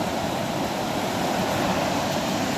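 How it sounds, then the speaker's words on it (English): A waterfall roars up close, a dense, unbroken rush of falling water that holds a loud, even level throughout with no other sounds. "This is the second waterfall."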